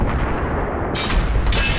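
In Battlefield 3, an RPG fires and blasts amid constant loud gunfire and rumbling combat noise, with a sharp burst partway through and sustained dense explosions throughout.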